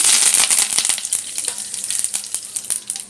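Mustard seeds and curry leaves sizzle and crackle in two spoons of hot oil for a Maharashtrian tempering, a dense, loud hiss with sharp popping bursts throughout and no voices.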